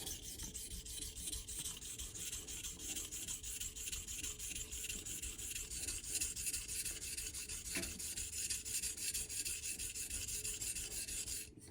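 A straight razor is honed with half strokes on a stone with slurry, giving a steady, continuous rasping scrape close by, with rhythmic back-and-forth strokes and a single faint tap midway.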